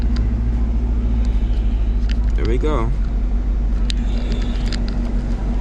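A 2021 Chevrolet Camaro SS with a pedal commander installed runs with a steady low engine rumble throughout, close by, while a person briefly speaks over it.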